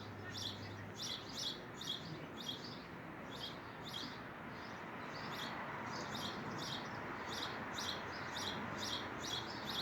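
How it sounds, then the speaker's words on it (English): Songbirds chirping outdoors in a steady run of repeated high calls, continuing through the whole stretch at moderate distance over a soft, constant background hiss, with no voices. "We hear the birds helping us raise the vibration."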